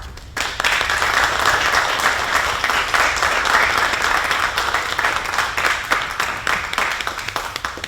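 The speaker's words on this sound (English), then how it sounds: "how about a round of applause for all the speakers, the volunteers, and staff" Crowd applause after a speech at the opening of a JFK PT-59 exhibit at Battleship Cove, dense clapping from a large audience rising quickly and holding steady for several seconds.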